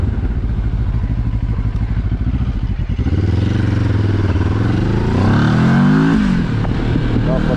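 A QJMotor SRT 700 motorcycle idles with a rough, throbbing engine note, then pulls away and accelerates in first gear, the revs climbing and falling loudly and close by.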